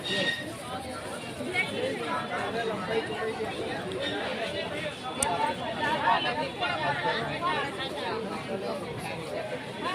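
Busy night market in Ujjain with people out shopping for clothes, a thick, continuous babble of many voices close around, steady throughout with scattered louder talk.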